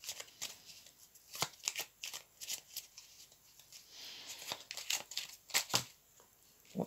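Mirror hour oracle cards are shuffled by hand in a quiet room, a soft, close series of riffling flutters and crisp slaps in uneven bursts, with no talking.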